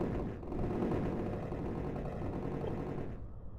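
Explosions go off in a game built in the Godot engine, a dense, continuous rumbling roll of blasts, loud and unbroken, with no talking over it.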